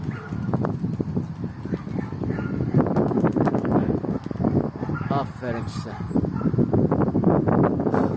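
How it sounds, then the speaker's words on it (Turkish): Strong wind blows outdoors around a chicken coop, buffeting the microphone with constant gusty noise while a person talks over it and birds call faintly. "Rüzgarımız çok."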